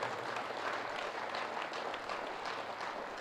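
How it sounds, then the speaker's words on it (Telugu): Audience applause rises as a steady, even wash of many hands clapping together, fairly faint and distant, continuing without a break. "గట్టిగా చప్పట్లతో వాళ్ళందరికీ, ఆ సృష్టికర్తలందరికీ చప్పట్లతో అభినందన తెలియజేసుకో."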